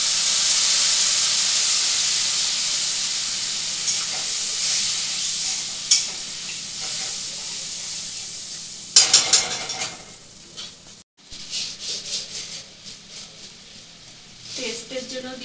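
Masala spice paste sizzles in a pan with chilli powder and a splash of water, a steady hissing fry with brief stirring scrapes and bursts, faint background voice present.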